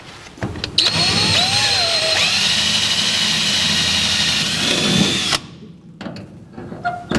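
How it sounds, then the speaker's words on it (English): Power drill boring out the holes in a metal gas pedal for a 1949 Chevrolet throttle install, a steady loud whining drone lasting several seconds that winds down and stops, followed by faint shop noise. "we're going to have to drill out the holes in the pedal"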